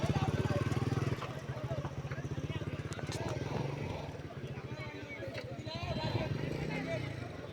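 Small motorbike ridden by a boy, a steady rapid engine putter throughout at moderate distance, with people talking over it.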